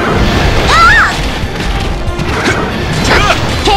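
Long-range artillery shells crash down in God Eater 2, a loud smashing impact with a rising whine and clattering debris, with further booms and thuds following across the scene.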